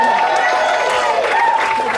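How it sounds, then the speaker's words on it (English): A comedy-club crowd applauds a stand-up comedian, a dense, continuous patter of clapping filling the room while a performer keeps talking loudly over it. "Give a thunderous round of applause for Skip Roggins right"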